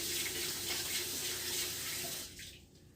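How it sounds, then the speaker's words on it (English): A tap runs in a homestead kitchen while hands are washed, a loud, close, steady rush of water that cuts off near the end and leaves a quieter trickle. "I'm gonna wash my hands."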